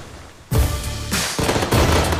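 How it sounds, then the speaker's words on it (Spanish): New Year fireworks burst over a city in loud, dense volleys of cracking explosions that come in rapid overlapping bursts, with no talking. "éramos testigos de los fuegos artificiales que celebraban este nuevo comienzo en diferentes ciudades"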